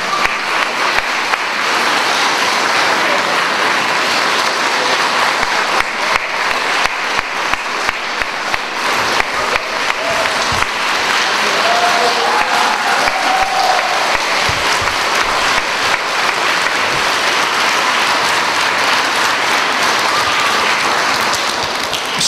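Sustained applause from an audience at an Independence Day ceremony for military unit commanders, steady dense clapping lasting over twenty seconds with a faint murmur of crowd underneath.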